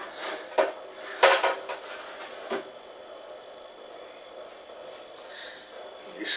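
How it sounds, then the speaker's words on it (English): Metal utensil scraping and clinking against a tin of ginger beer syrup, several sharp irregular scrapes and knocks early on, then quieter rubbing, close and fairly faint. "I'm just going to get the rest of this syrup off of the sides of the tin"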